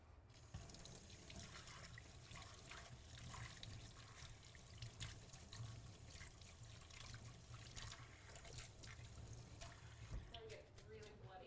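Water runs steadily from a tap while hands are washed, a continuous close splashing rush with small variations from the hands moving under the stream, lasting several seconds before it cuts off.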